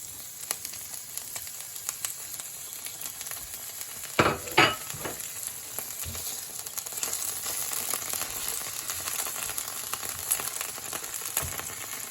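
Broccoli added to a pan over lowered heat for pasta with broccoli and red pepper, a steady sizzle with a couple of sharp clatters as it goes in and occasional scrapes of stirring.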